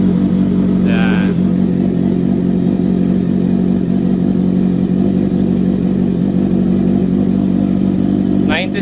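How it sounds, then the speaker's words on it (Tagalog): A Kawasaki Z650 motorcycle idles with its exhaust, a loud, steady low rumble running throughout, with a brief higher chirp early on and another near the end. "Grabe, lakas ng tunog ng Z650."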